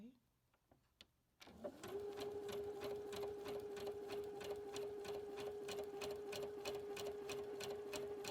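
A Brother Innovis NV1100 sewing machine starts after a few quiet clicks, then runs in a fast, even mechanical chatter of rapid stitches, close and steady until the end.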